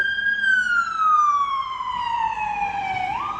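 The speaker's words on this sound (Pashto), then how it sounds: "دا امبولانس دی" An ambulance siren wails in a long, slowly falling tone that rises again at the end, clear and steady over distant road noise with no voices.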